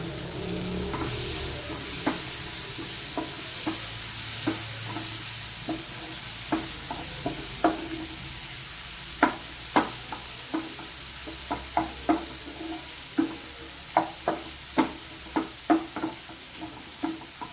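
Capsicum and green chillies stir-fried in a pan for a paneer dish, with a steady close sizzle under repeated sharp scraping knocks of a spatula against the pan, growing more frequent toward the end, with no talking.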